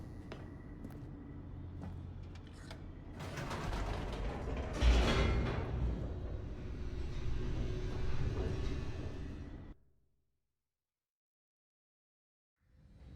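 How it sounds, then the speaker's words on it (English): A descending elevator in The Stanley Parable gives a mechanical rumble with creaks and ratcheting clatter that builds for several seconds, then cuts off abruptly into silence. "The elevator raced downward, plummeting towards an unknown fate."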